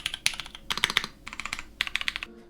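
Quick bursts of typing on a SpyderTKL tenkeyless mechanical keyboard with tactile switches give dense, solid clacks in uneven runs, close-miked and fairly quiet.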